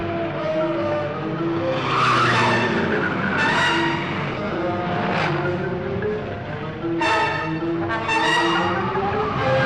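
Tires squeal and skid in a car chase scene from the 1958 film The H Man. Several loud, drawn-out screeches come in bursts over a continuous backdrop of engine and soundtrack noise.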